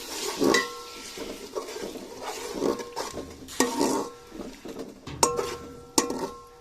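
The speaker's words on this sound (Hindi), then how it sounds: "आलू इसमें कटे हुए डाल दिए, चम्मच चलाएंगे।" A spoon stirs freshly added chopped potatoes in a pot of fried spices, scraping and clinking against the metal in uneven strokes with a faint sizzle beneath, close by, no talking.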